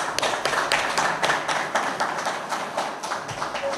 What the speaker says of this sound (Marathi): त्यांच्यासाठी जोरात टाळ्या